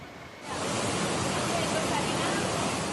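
Rushing floodwaters in southeastern Spain after torrential rain, a steady loud roaring wash of water that surges in after a quieter moment and continues unbroken.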